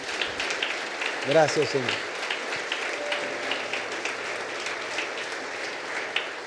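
Steady applause at a church service fills the space, a dense patter of many hands clapping, while someone speaks briefly over it.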